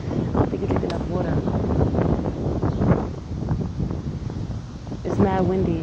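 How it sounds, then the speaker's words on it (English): Wind buffets the microphone with steady rumbling gusts while a person talks over it. "It's mad windy."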